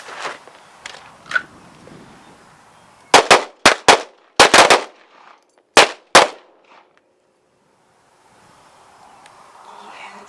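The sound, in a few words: pistol shots fired at a shooting drill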